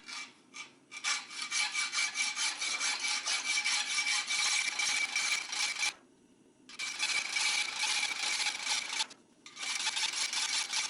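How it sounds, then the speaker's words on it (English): A hacksaw cuts through the steel parent bar of a freshly forged flint striker, a loud, close, rasping back-and-forth stroke that runs continuously with two brief pauses. "Next, I'm just going to cut off the parent bar from the newly forged flint striker"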